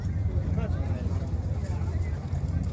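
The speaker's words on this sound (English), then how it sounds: "The wind has picked up here and it's getting bad" Strong gusty wind buffets the microphone at an outdoor craft show, a heavy low rumble under someone talking nearby.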